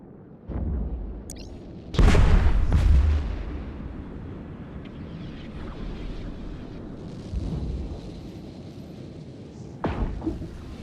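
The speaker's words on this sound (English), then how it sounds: "Well, that was a very nice little explosion." A ship explodes in the space game EVE Echoes with a deep booming blast that rumbles for a couple of seconds. Smaller thuds come before it and another burst follows later, over a low droning background.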